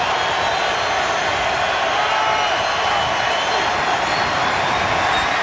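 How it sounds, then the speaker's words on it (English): A Buccaneers home crowd in a packed football stadium roaring on a third down, a dense continuous wall of noise with no breaks, loud and sustained throughout. "The Bucs crowd gets loud on 3rd and 6."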